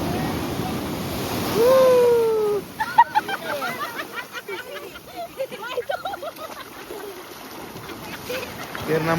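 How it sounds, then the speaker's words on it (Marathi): Big ocean waves roll and wash ashore at Gokarna beach, a steady surf rush with wind buffeting the microphone, loud and close, while voices call out over the water. "या साईडला मोठी लाट आलेली आहे"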